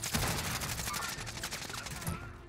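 Rapid automatic gunfire in the video game Call of Duty: Warzone, a dense rattling stream of shots heard continuously at moderate loudness, with some lower thuds mixed in.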